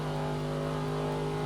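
Ford Mustang engine in a racing video game held at high revs, a steady loud droning whine with strong harmonics, continuous and alone.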